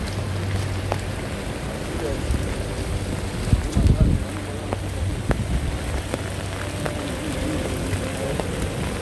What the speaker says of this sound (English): If I didn't talk, you hear all the raindrops hitting the umbrella.